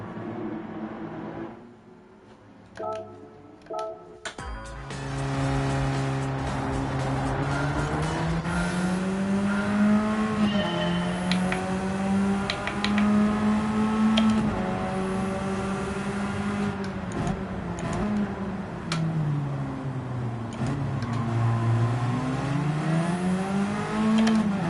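Radical race cars lap the Nürburgring in Gran Turismo 7, a loud engine note climbing and falling through gear changes and corners, with occasional tire squeal and no talk.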